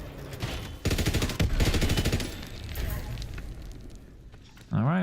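Rapid bursts of MG15 machine gun fire in Call of Duty WWII Zombies, loud and close, repeating in quick rhythmic volleys mixed with other game effects, with a voice talking over parts of it.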